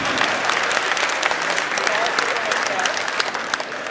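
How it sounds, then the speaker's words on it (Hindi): An audience at a Hindi comedy poetry gathering claps steadily, a dense, fairly close wash of many hands that holds at an even level for the whole few seconds. "ताली कमजोर है आपकी।"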